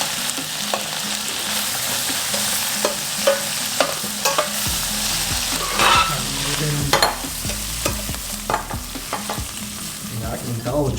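Jerk shrimp cooks in a pot with a close, steady sizzle. Frequent sharp scrapes and stirring knocks recur throughout, and no one talks.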